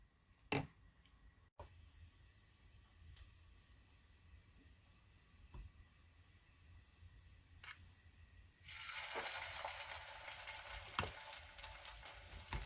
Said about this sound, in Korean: 이렇게 해서 팬에 기름을 누르고 예열을 해가지고 구워내도록 할게요